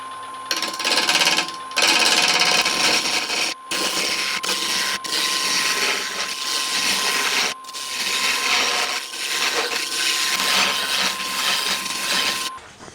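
A wood lathe spins a cherry bowl at about 1,000 RPM, giving a steady mechanical whir with a constant tonal hum, broken by brief pauses and scraping surges as the tool meets the wood.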